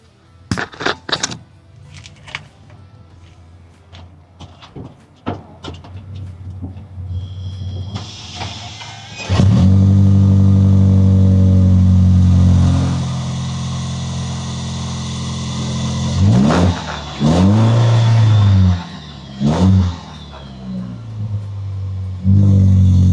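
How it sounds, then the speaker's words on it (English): 2024 Toyota LC250 Premium with an aftermarket cat-back exhaust, recorded from underneath the vehicle: a few clicks, then the engine starts and settles into a deep, loud idle rumble with occasional revs swelling and falling away. "I'll turn the vehicle on and let you take a listen for yourself."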